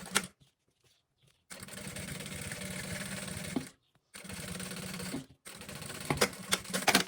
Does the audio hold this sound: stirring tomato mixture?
no